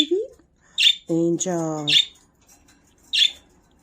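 Pet birds let out three short, piercing squawks spaced across a few seconds, loud and close, while someone talks to them between the calls.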